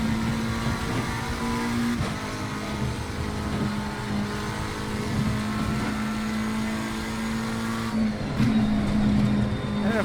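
A McLaren 720S GT3 race car in Assetto Corsa Competizione holds a loud, steady engine drone with a sustained tonal whine, briefly dropping in pitch as it shifts and then climbing again, alone without voices.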